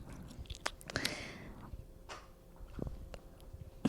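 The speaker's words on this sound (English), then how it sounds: "the dog is chewing on the bone" Quiet, wet gnawing and crunching of a dog chewing a bone, with irregular bites and squishy chews close to the microphone.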